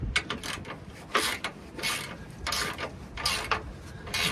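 A ratchet wrench tightens bolts on the front suspension of a 2019 Ram 1500 truck, giving repeated short clicking bursts in an uneven rhythm, close and fairly quiet, with no talking.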